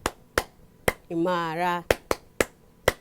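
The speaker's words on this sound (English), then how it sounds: "If you are in Tanzania, the clapping routine is translated to this." Rhythmic clapping routine from Tanzania: sharp, loud claps in an uneven pattern, broken in the middle by a sung or chanted word from a voice, then resuming with several more crisp claps.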